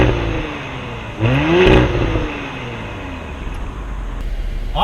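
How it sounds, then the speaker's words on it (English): A 2018 Audi SQ5 engine idles nearby, then revs up sharply once and settles back to a steady idle. "show you what the revs are like"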